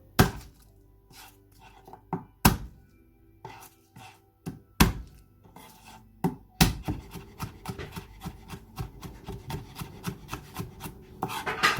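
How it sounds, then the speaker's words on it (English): Knife chopping garlic on a cutting board while cooking teriyaki chicken and prawns: a few scattered heavy thuds at first, then a fast, steady run of close chopping strokes, with no talk. "Once you've finally chopped your garlic"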